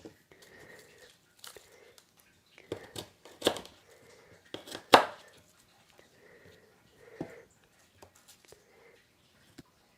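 Large garlic cloves being cut with a knife, heard as a scattering of sharp, close clicks and crunchy chops at an irregular pace with quiet gaps between them.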